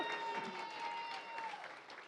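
An audience at a closing ceremony claps and cheers, a fairly soft, steady patter of many hands with voices mixed in, easing off slightly toward the end.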